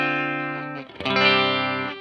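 A Fender Stratocaster through a Vox AC30 amp plays a clean sustained chord that rings out, then a second strummed chord, bright and close with no voice.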